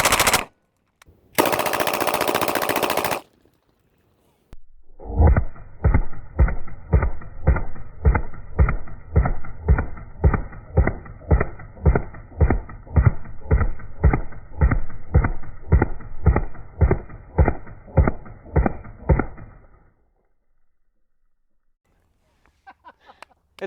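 A 1928 Thompson submachine gun fires on full auto, emptying its magazine at a body-armor target outdoors. A brief burst of noise comes first, then a loud, steady string of about thirty evenly spaced shots over roughly fifteen seconds before it stops.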